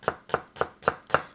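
An onion is sliced thinly with a knife on a cutting board, five crisp, evenly spaced chops in quick steady rhythm, close and clear with no talking.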